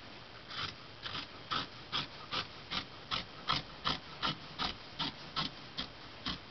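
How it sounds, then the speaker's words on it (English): Scissors cut fabric along a pulled-thread grain line, a steady series of about fifteen quiet, evenly spaced crisp snips close by. "That is the line I'm going to cut on."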